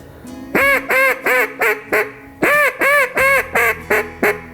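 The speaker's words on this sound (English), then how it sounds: "So this is what a 5-note hail call would be." A five-note hail call blown on a duck call, loud and close: two runs of honking, quacking notes with a short break between them, the notes falling in a steady rhythm.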